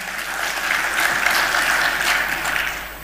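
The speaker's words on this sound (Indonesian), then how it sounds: "Tepuk tangan buat kita semua" Sustained applause from an audience at the PSSI football federation congress, dense and steady clapping filling the hall for about three seconds before tapering slightly at the end.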